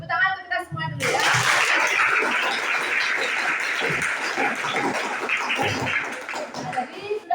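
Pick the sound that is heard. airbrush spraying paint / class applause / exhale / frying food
class applause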